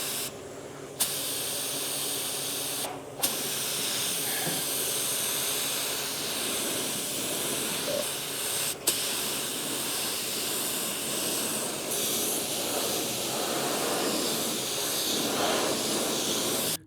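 A spray gun applies 2K urethane primer to a car body, a steady continuous hiss lasting well over ten seconds, broken by a few brief pauses and clicks.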